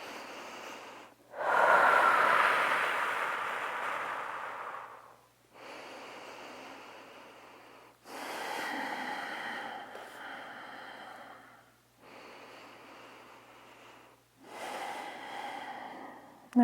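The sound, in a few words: deep breathing during yoga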